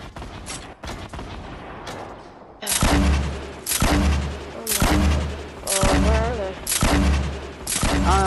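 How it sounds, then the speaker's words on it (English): Grenade launcher fire in Fortnite Battle Royale: a string of heavy, booming blasts lands roughly once a second, each with a rumbling tail, after a quieter opening of scattered distant shots. "I'm trying to freaking do my grenade launches everywhere."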